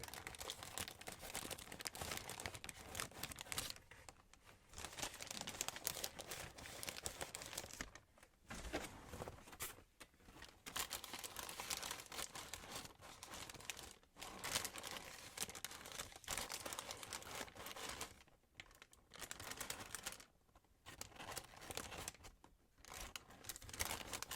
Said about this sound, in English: we've got some nice crinkly sounds in there of the Crocs branded tissue paper